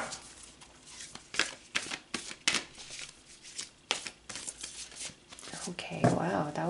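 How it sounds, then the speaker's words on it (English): Tarot cards being shuffled quickly by hand, a rapid series of crisp riffling and flicking bursts up close, with a brief papery rustle near the end. "that was a quick shuffle."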